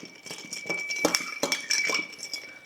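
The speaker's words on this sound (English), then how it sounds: "you just kind of roll that spoon between your fingers." Bar spoon stirring a Chocolate Manhattan over ice in a mixing glass, giving close, continuous light clinking and tinkling of ice against glass with a few sharper chimes, no talking.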